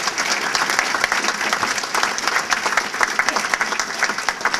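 A political audience at a Governor Walker event bursts into sustained, dense applause, loud and steady throughout with no pauses.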